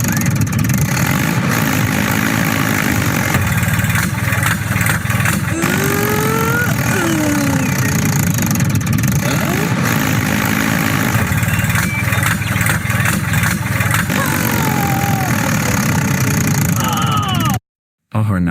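A small toy RC tractor motor whirs and strains unevenly in a dirt pit, its pitch wavering as it labors, with a voice talking over it for much of the time.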